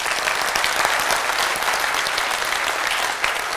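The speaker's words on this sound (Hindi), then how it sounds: "मैं चाहूंगा इस बिजनेस के लिए एक बार ताली बजा दीजिए।" Steady audience applause from a crowd at a direct-selling business seminar, dense and continuous clapping at even loudness throughout with no talk over it.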